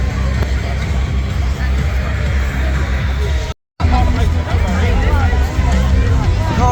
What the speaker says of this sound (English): Quite the crowd's now gathering.